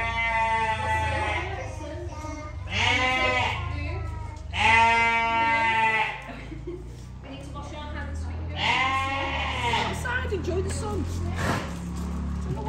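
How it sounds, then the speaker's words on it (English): A donkey at a farm brays loudly in several drawn-out, wavering calls spaced across the moment, with family chatter and faint background voices around it. "A donkey. Donkey? Oh, you're noisy."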